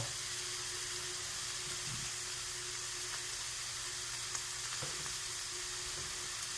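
Ground meat and tomato paste sizzle in a hot pan for a shepherd's pie, a continuous close crackling hiss with a few faint stirring scrapes.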